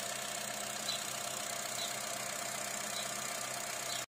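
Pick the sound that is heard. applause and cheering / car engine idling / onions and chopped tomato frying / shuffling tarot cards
car engine idling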